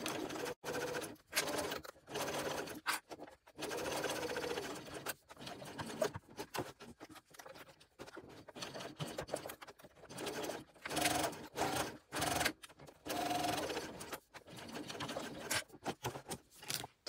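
A sewing machine stitches up one side of a four-layer tote bag with tension raised, running in bursts of steady mechanical whirring separated by short pauses, fairly quiet and close, with no voices.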